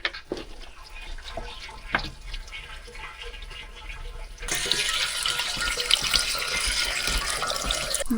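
Water from a tap at an off-grid rural Alaska home begins gushing about halfway through and keeps running steadily and loudly after scattered clicks and handling sounds.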